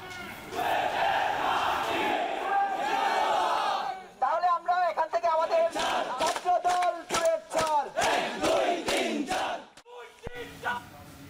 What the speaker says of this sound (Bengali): পরে বিভিন্ন হল প্রদক্ষিণ করে উপাচার্যের বাসভবনের সামনে জড়ো হয়ে বিভিন্ন স্লোগান দেন শিক্ষার্থীরা